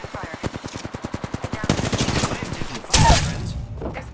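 Rapid automatic gunfire in Apex Legends rattles out as a dense, evenly spaced burst of shots, loud and close, followed by a heavier blast and a brief trailing clatter.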